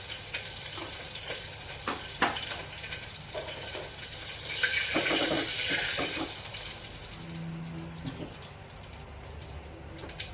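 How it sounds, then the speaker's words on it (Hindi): Cumin seeds frying in hot reused oil in a kadhai for a tadka, a steady close sizzle with soft stirring clatter and a few brief clicks. "जीरा भुन गया है"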